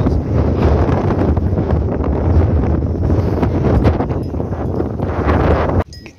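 Strong outdoor wind buffets the microphone in a village setting, a loud, continuous roaring rumble that holds steady for about six seconds before cutting off abruptly near the end.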